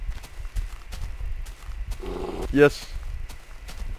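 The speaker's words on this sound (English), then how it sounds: "Oh, wow, baby horse." Hooves clip-clop steadily from a baby horse wandering in Minecraft, light rhythmic taps running throughout under a person talking, with a brief whinny-like cry in the middle.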